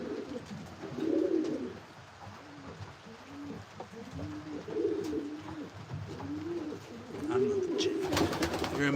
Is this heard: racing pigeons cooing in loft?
yes